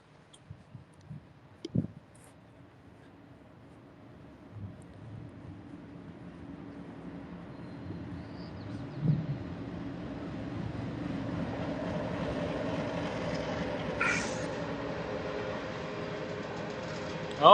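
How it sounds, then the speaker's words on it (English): A train rumbles past in Mukilteo, Washington, starting faint and building into a steady low roar that fills the scene, with a few small knocks early on. "Another train coming."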